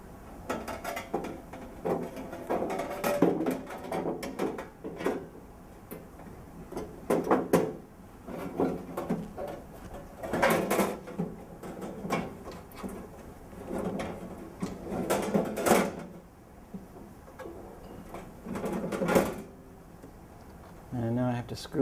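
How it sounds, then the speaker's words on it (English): A plastic cover is pressed and clicked back onto a voting machine, giving a series of close, irregular snaps, rattles and handling knocks at a steady moderate level. "And now I have to reinstall the cover."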